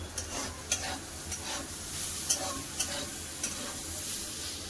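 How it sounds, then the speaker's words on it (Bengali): Potatoes and yardlong beans fry in a pan with a steady sizzle, while a spatula scrapes and stirs through them in a series of sharp clicks and knocks, close and fairly quiet. "সব ভালো করে সিদ্ধ হয়ে গেছে, আর একটু নাড়বো"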